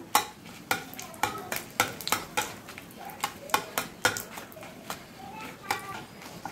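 Bay leaves and whole garam masala are fried in hot ghee in a kadai, with a spatula scraping in quick, regular strokes over a soft, continuous sizzle.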